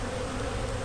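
Honey bees buzz during an open hive inspection, a steady, dense drone that stays loud and close throughout with no talking.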